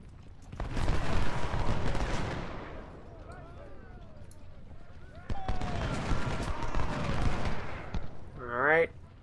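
Skirmishers' musket volleys crackle in Ultimate General: Civil War, loud layered bursts of gunfire rolling across the battlefield in two long waves with a quieter lull between them.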